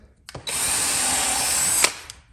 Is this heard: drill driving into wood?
yes